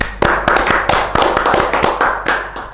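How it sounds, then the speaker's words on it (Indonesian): Hands clapping for a guest on an Indonesian talk show, a loud, close run of sharp, irregular claps from a small group, the clap bursts bunching and spacing unevenly across the whole stretch. "Tepuk tangan untuk Mister Puisi."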